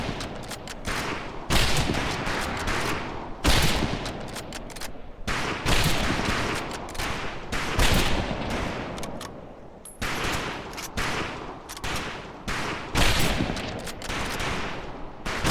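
Rifle volley fire at a shooting range in Medal of Honor: Pacific Assault, with loud, close shots cracking again and again in irregular bursts, steady and dense for the whole stretch.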